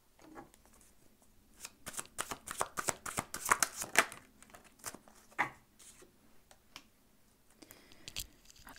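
Tarot cards being shuffled close by, a fast flurry of crisp riffling flutters that builds and then tapers to a few soft slides, with no talk.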